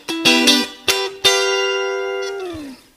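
Electric guitar chord solo, a few picked chord stabs followed by a held chord on the flattened seventh that sustains and slowly bends down as it fades, played alone.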